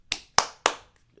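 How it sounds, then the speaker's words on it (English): Three sharp, close hand claps, evenly spaced and quickly decaying, sound alone in a short burst of applause with no voices. "Just give me a round of applause."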